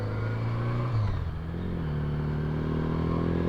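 A 1981 Honda Goldwing GL1100 motorcycle engine runs steadily at close range, a smooth low hum that dips briefly and then settles into an even drone, heard on its own with no talking.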